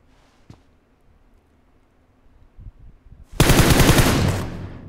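Quiet game ambience with a few faint thumps, then a loud sustained burst of rapid machine gun fire in PUBG Mobile, close and dense until the clip ends.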